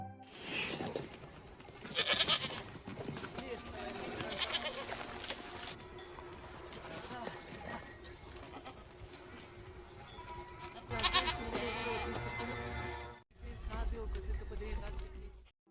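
A herd of goats in the film Lone Survivor bleats repeatedly, with several overlapping calls moving close, mixed with rustling movement and narration over the top.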